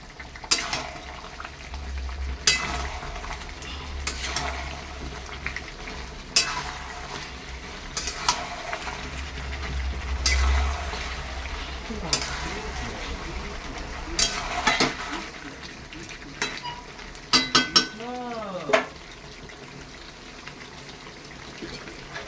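Papaya pieces dropped into a hot pan and stirred while frying: a soft sizzle under intermittent scraping stir strokes, a low rumble, and a few sharp clatters near the end.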